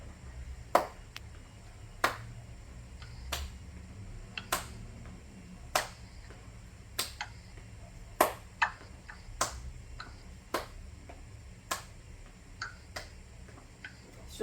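Hand claps at a steady, evenly spaced rhythm over roughly fourteen seconds during a coordination exercise class, sharp and fairly close, with faint background hum and no talking.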